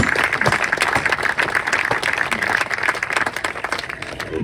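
Sustained applause from an outdoor audience at a summer season launch event in Roquebrune-Cap-Martin, a thick wash of clapping at moderate loudness with a few sharper claps poking through.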